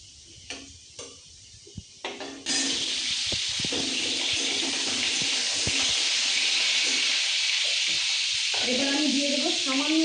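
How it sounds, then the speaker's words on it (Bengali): Pointed gourd frying in hot oil in a home kitchen, a steady loud sizzle that swells after a few seconds, with occasional spoon taps and scrapes against the pan. "লাল লাল করে ভেজে তুলে নিচ্ছি"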